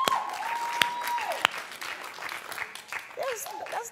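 A talk-show studio audience applauds in response to a poll question, a moderate wash of clapping under and around a host's voice, with a brief tone and a couple of sharp clicks at the start.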